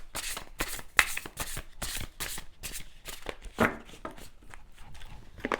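Tarot or oracle cards are shuffled by hand in a quick series of close, crisp riffling bursts with short gaps between them.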